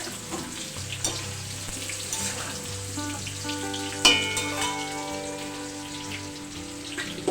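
Potatoes frying in hot oil for a mutton curry, sizzling steadily and close with faint stirring clinks and one sharp clatter midway, no talk.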